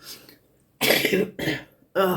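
A person coughs three times in quick harsh bursts, close up, with short silent gaps between them.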